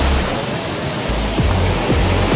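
Stormy sea surf breaking on a rocky beach at Mahmutlar, Turkey, a steady loud roar of churning water with heavy low surges rolling in one after another, no voices.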